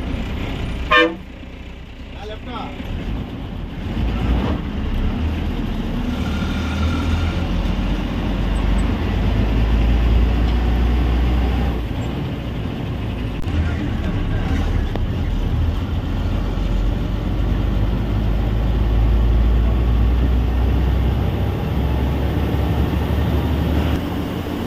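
A Suvarnamukhi intercity bus on the Bangalore to Proddatur route drives into Chikkaballapur town, with a steady low engine and road rumble throughout, one horn toot near the start, and faint voices inside.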